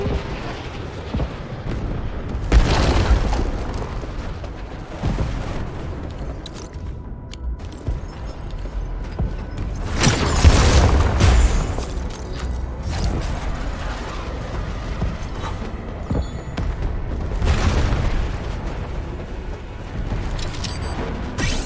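Explosions and booming artillery impacts in the video game Arknights: Endfield, loud bursts rising out of a steady rumbling battle bed, with the biggest blasts near the middle and smaller ones around them.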